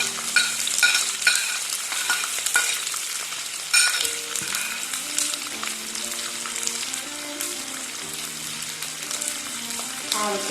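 Ginger, garlic and green chilli sauté in hot oil for Kerala-style lime pickle. A steady, close sizzle runs throughout, with scraping stirs over it and clinking strikes against the pan, and a brief ringing tone sounds near the end.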